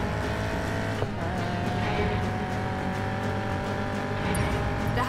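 Cars race and pass by in the Need for Speed PC game, a steady loud engine roar with revving layers and brief tire squeal, continuous throughout with no talk.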